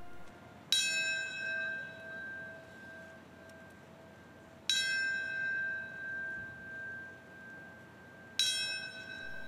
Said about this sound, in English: The bell tolled and told a story of names.